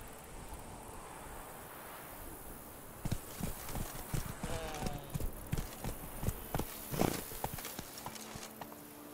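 Roach the horse in The Witcher 3 clip-clops in a steady trotting rhythm of close, distinct hoofbeats that starts about three seconds in, over ambient game sound and a faint background voice.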